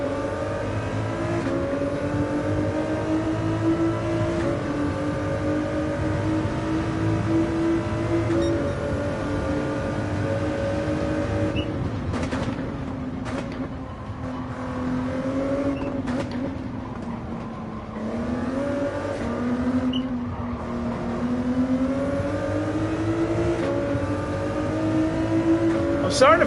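A race car engine in the video game Gran Turismo 7 drones and revs continuously, rising and falling through gear changes, loud and steady, while someone talks over it.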